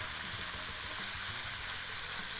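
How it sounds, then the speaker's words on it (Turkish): Meat sears in a wide-bottomed pot for Uzbek pilaf, a steady dense sizzle and crackle of frying filling the whole stretch, with faint clinks of stirring beneath and no voices. "Burada iyice mühürlenecekler."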